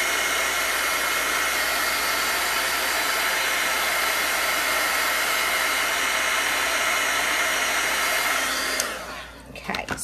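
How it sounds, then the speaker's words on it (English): A heat tool blows continuously and loud at close range while drying chalk paste on camping-themed magnets, a steady whooshing hum that cuts off near the end. "Now, we'll hit it with a little bit of heat."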